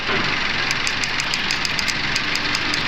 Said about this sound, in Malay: Kalau ada bunyi taktuk-taktuk, okey lah itu relay.